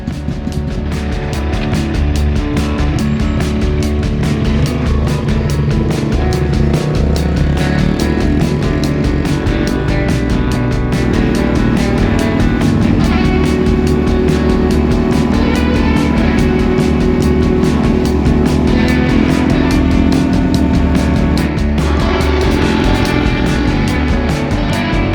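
A Honda CRF230F dirt bike is ridden on a test run, its engine droning loud and steady throughout with rising and falling revs and no voices.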